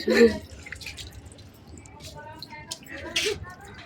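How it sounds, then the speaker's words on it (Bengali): Water drips and splashes softly while a cat is bathed, with scattered irregular drops over a low background and a brief voice near the start. "মিমি চান করছে দেখো বন্ধুরা দেখো"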